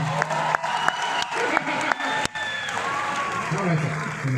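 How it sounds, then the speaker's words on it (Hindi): Dense applause from the audience at a Hindi comedy poetry gathering at the Ratnawali Festival 2022 fills the scene steadily, with a voice speaking over the clapping. "एक बार बजा दो ताली, देखी जाएगी"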